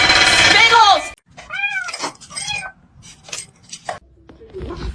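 Kitten meowing several times in short rising calls, close and fairly loud, with a person talking around the cries.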